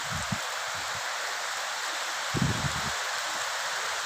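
Continuous rain hissing on surfaces, with a few soft low thumps and knocks scattered through it.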